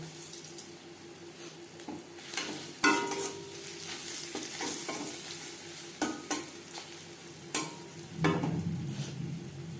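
Black cumin and green chilies fry in oil, a continuous close sizzle broken by several sharp spatula scrapes and knocks against the pan, with a louder burst of frying toward the end.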